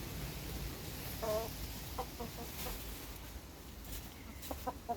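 A few quiet clucks from chickens on a farm come in brief, scattered bursts against a steady outdoor hiss during strong gusty wind.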